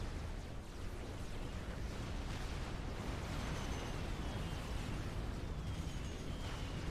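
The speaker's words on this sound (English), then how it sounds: "There go the torps." Torpedo salvos launched by naval units in a Supreme Commander: Forged Alliance sea battle against cruisers and battleships, a dense continuous rumble of launches and bursts with no talk.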